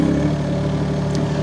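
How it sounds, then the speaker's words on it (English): A mini excavator engine idling smoothly at low throttle, a steady close rumble with an even low pulse and no changes in speed. "So it's just idling away, and you can get them pretty smooth."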